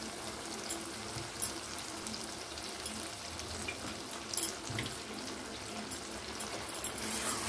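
Boiled mixed dal, cooked until soft but still partly whole, is poured into a pan of spices, giving a steady wet pouring and sizzling wash with a few soft splashes, fairly quiet and with no talk.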